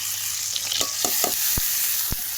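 Fried potatoes cooked down with a paste of onion, garlic, ginger, dried chilli and cumin plus salt and turmeric, sizzling steadily while a spatula scrapes the pan in several sharp strokes.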